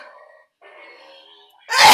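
A quick, loud sneeze bursts out at the very end, following a couple of seconds of quiet, faint tonal background sound.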